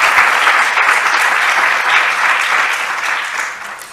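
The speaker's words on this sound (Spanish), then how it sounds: "yo les pido un aplauso para este equipo maravilloso" An audience at a conference gives a sustained round of applause for the event team, the dense clapping holding steady at full strength before tapering slightly at the end.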